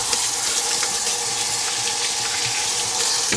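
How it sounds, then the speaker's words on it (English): Tap water runs steadily into a sink while hands are washed under the stream, a continuous close hiss and splash with small shifts as the flow is interrupted. "let me wash my hands for a second here"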